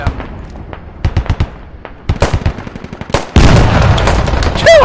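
Rapid gunfire bursts from a first-person shooter video game, loud sharp cracks in irregular volleys with a dense, sustained barrage of shots near the end.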